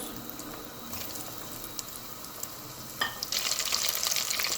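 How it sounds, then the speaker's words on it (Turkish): Steady crackling sizzle of rice balls (arancini) frying in hot oil, continuous throughout, growing a bit louder and brighter near the end. "Kızdırmış olduğumuz yağımızın içerisine pirinç toplarımızı alıyoruz ve kızartma işlemimize başlıyoruz."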